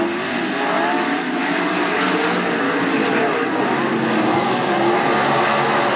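410 sprint cars at Attica Raceway Park during a heat race, a continuous loud engine roar with a driver getting back on the throttle, droning steadily throughout with no breaks.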